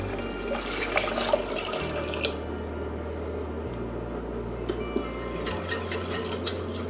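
Liquid for an espagnole sauce splashes and sloshes continuously into a pan, close up, with a low musical bed underneath and small wet pops throughout.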